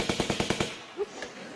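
Rapid burst of about six sharp, evenly spaced buzzer blasts from a quiz show panel, rattling off like machine-gun fire, followed by a brief softer tone and quiet studio air.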